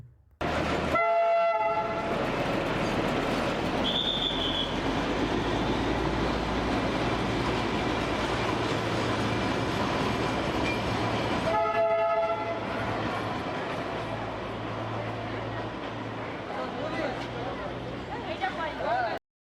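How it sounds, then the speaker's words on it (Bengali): The Darjeeling Himalayan toy train rumbles past close by with rhythmic clatter, sounding its whistle twice, with voices chattering in the background. "আমাদের সাথে দেখা হয়ে গেল দার্জিলিংয়ের বিখ্যাত সেই হিমালয়ান টয় ট্রেন"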